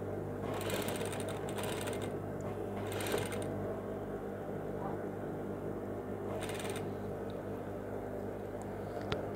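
A sewing machine runs steadily while gathering a ruffle near the shoulder seam of an evening blouse, giving a continuous mechanical hum with a few louder bursts of stitching.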